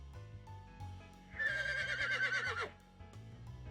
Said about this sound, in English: I hear a horse neigh.